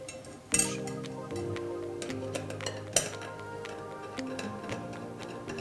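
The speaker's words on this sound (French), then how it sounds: "je vais commencer par mettre le capuchon sur le couvercle" Plastic cap fitted onto the lid of a gravity water filter, giving a couple of sharp clicks and light plastic knocks over a faint steady hum.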